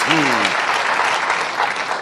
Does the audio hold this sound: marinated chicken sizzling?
no